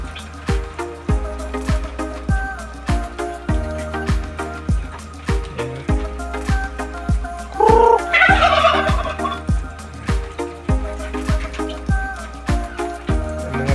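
A turkey gobbles once amid a steady rhythmic dripping and pattering of rain, with fowl sounds nearby and no talking.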